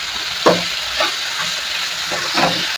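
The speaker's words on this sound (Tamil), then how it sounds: "இந்த சவ்வையும் போட்டுக்கிறேன். போட்டு நல்லா வதக்கிக்கலாம்" Chayote pieces sizzle steadily in a hot pan as they are sautéed for chutney, a close, continuous frying hiss broken by several soft stirring scrapes, with no talking.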